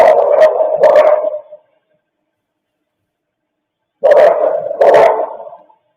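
Dog barking in two separate bursts of a few sharp barks each, loud and close, with a silent pause between them and no talk.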